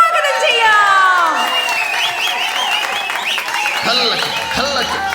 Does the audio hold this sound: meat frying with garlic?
no